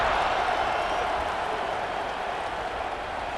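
A big stadium crowd roars before the kickoff of a 2025 college football game between Tennessee and Vanderbilt, a broad, steady wash of cheering and noise that fades only slightly toward the end.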